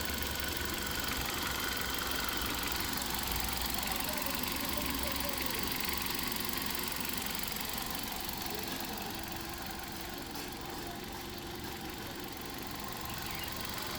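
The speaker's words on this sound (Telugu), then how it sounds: "ఇక్కడ ఇంజన్ చూసుకోవచ్చండి, పిన్ డ్రాప్ సైలెంట్ అన్నమాట." Petrol engine of a Hyundai i20 Asta idling steadily and quietly, a soft continuous hum with faint knocking texture throughout, heard from close by with no voices.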